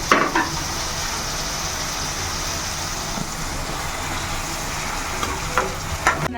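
Two chopped green chillies hit hot oil in a pan for Telangana-style mutton curry, a steady close sizzle with occasional stirring scrapes and clinks running throughout.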